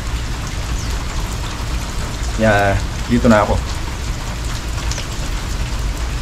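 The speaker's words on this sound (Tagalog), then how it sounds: "Biglang lakas ng ulan kanina, hindi na ako nakalis." Heavy rain pours steadily onto a shelter at a picnic ground during a rainy morning motorcycle ride, a dense, even hiss that runs the whole time. Someone speaks briefly near the middle over the downpour.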